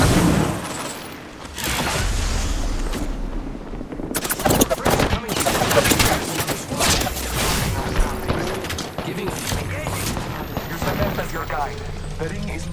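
Automatic gunfire in a battle royale shooter, bursts of rapid shots building into heavy, dense volleys with a few booms, close and loud, with voices talking over parts of it.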